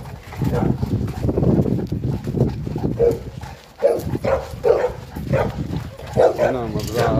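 Several dogs bark in short, repeated bursts at a farm during a night walk, moderately close and mixed with people talking over them.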